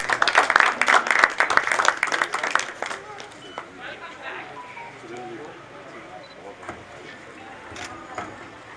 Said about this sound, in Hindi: जोरदार तालियां होनी चाहिए हमारे सर।